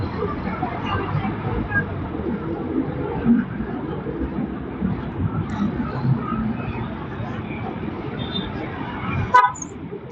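A car horn honks in a busy parking area with traffic and people chatting nearby, a short sharp toot standing out near the end over steady background murmur.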